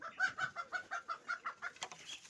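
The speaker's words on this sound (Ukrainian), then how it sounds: "тепер можна і курей випустити, бо сидять закриті" Chickens just released from their coop cluck in a steady rhythmic series of about a dozen close, moderately loud calls, with a sharper squawk near the end.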